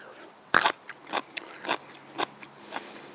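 A Mexican sour gherkin gets one sharp, close crunch as it is bitten, then several softer crackly chewing crunches follow in an uneven rhythm, with no talk.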